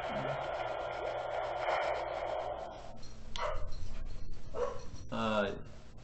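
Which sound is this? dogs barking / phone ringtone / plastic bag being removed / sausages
dogs barking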